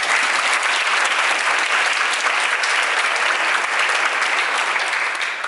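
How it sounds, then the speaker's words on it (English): Graduation audience at a community college ceremony applauding steadily, a dense wash of many hands clapping, loud and sustained throughout with no break. "Give yourselves a round of applause."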